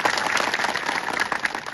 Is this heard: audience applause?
yes